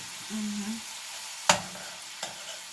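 Homemade meatballs brown in a pan over fairly high heat, a steady soft sizzle with two sharp scrapes or taps of a spoon against the pan, close by.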